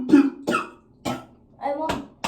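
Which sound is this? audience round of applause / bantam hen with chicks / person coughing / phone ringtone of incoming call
person coughing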